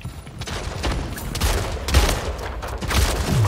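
Gunfire in the arena shooter Splitgate: a dense run of overlapping shots and bursts keeps going throughout, fairly loud and steady, with several sharper volleys standing out.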